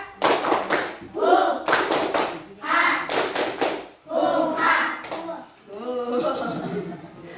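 Children clap in rhythmic bursts along to a clapping chant in a classroom, loud and close, with a teacher's voice and children's chanting between the claps.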